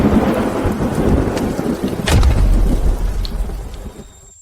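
Steady heavy rain pours throughout, with a deep rumble of thunder swelling about halfway and fading as the downpour thins toward the end; no voices.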